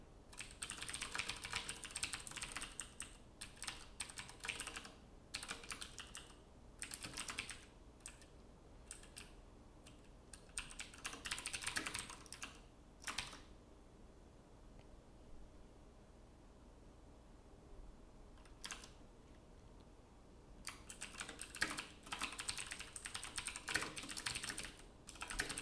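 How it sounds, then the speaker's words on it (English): Fast typing on a computer keyboard in bursts of rapid clacking keys, separated by short quiet pauses, close and alone with no voices. "Learn to type."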